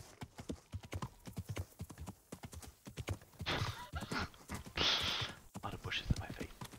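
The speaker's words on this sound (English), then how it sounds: "Pretty quick with the horse." A horse gallops in the video game Kingdom Come: Deliverance, with rapid rhythmic hoofbeats running throughout, breathy snorts and a brief whinny near the middle, while someone talks over it.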